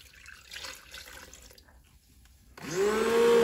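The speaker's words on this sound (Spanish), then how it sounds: "Y le voy a echar otro litro más de agua caliente" A litre of hot water pours into homemade lemon dish soap, a rising, gurgling rush that starts loud after a quieter stretch of faint background noise and builds until the end.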